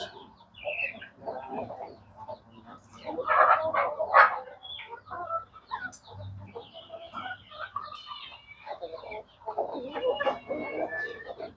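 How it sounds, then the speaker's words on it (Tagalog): Several native chickens on a farm, waiting for feed, cluck and chatter close by, overlapping murmurs and sharper calls rising and falling throughout. "mga native natin na manok"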